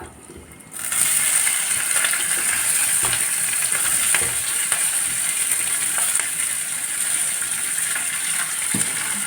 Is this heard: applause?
no